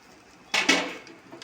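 Chicken pieces tipped into a pan and stirred for home-style chicken fried rice, giving a short burst of clattering and scraping that fades within a second, with no talk.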